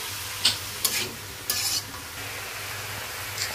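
Fried rice with cabbage, salt and soy sauce is stir-fried in a pan, making soft, scattered scraping and sizzling bursts at a low level, with brief gaps between the stirs and no speech.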